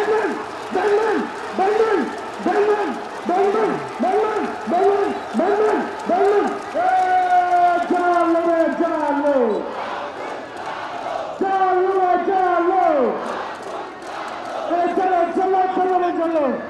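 Students and a dense crowd at a Shahbag protest chant slogans in loud rhythmic unison, short repeated shouted phrases at first, then longer drawn-out calls and responses echoing across the open square.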